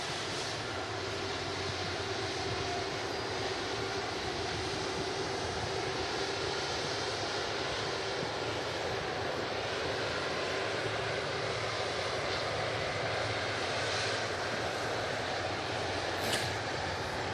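Virgin Atlantic Airbus A330, named Miss Sunshine, taxiing past at an airport: a steady, fairly faint broadband engine rumble and whine that holds evenly throughout, with no voices.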